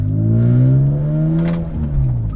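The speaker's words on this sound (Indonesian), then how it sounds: "mobil ini itu punya suara knalpot yang sangat berisik. Berisik itu sangatnya berisik sekali ya, karena ini adalah knalpot titanium" A BMW M3 E46 with a titanium exhaust roars loudly and steadily while driving, its deep engine note rising and holding close up with no talk over it.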